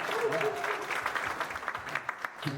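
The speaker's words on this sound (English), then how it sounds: "Now, big round of applause." Applause from an audience at a Q&A talk, steady clapping that thins toward the end, with a voice speaking over it.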